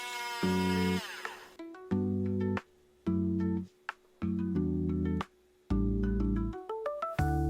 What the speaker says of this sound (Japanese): メインツールはリューターです。 この機械の音は、なんとも癒されますね。